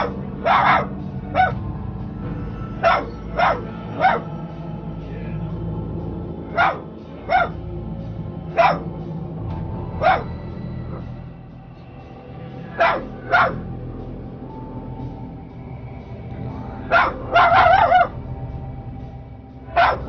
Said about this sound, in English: We can see the dog continuously barking at the doorway